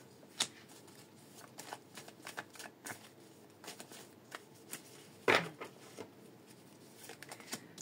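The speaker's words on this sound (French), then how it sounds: "Il a tellement peur des cartes là qui se mélangent" A deck of tarot cards is shuffled by hand in a series of crisp riffles and soft flicks, close and clear, with one louder burst partway through and no voices.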